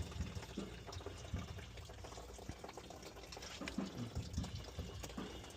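Coolant drains from the radiator of a 2025 Toyota 4Runner in a continuous splashing, trickling flow. It sounds steady and close, with occasional faint clicks from work nearby.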